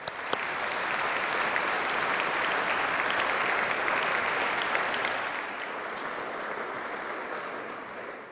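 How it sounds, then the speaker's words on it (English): A large audience at a college ceremony breaks into sustained, even applause for international students, a dense wash of clapping that holds steady for about eight seconds and eases slightly near the end. "a huge round of applause"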